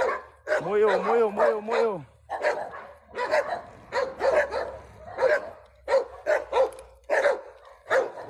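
Dogs on a street in a Brazilian neighbourhood give repeated close barks, yips and a whining whimper, while someone talks over and between them in Portuguese.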